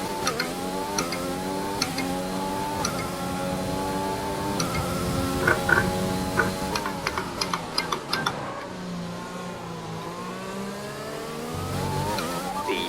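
A racing car engine in a video game drones and strains with shifting pitch, punctuated by sharp clicks and pops, loud and continuous; the car has failing components and a worn-out turbocharger.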